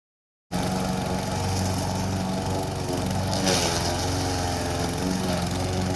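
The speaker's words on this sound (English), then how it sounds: "It's time to mow down the cover crop." Lawn mower cutting down a cover crop in a garden, its engine droning steadily and loudly close by with a slight surge partway through, no voices.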